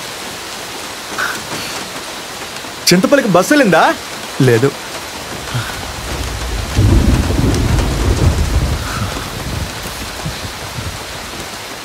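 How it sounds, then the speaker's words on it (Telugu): Heavy rain pours down with thunder: a loud, rolling rumble swells under a steady downpour hiss, while people talk briefly beforehand. "మంచి వర్షం."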